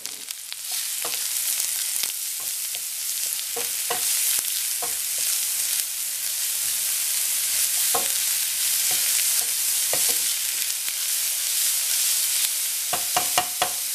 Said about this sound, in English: we add our aromatics, the onion, the garlic, and the ginger. Be careful for all the splatter.